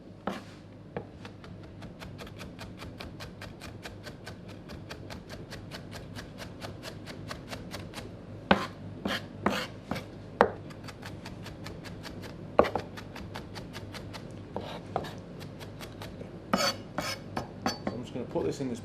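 A knife chopping an onion on a board, a long run of quick, even close taps with a few louder knocks and clinks in the later part, with no talking.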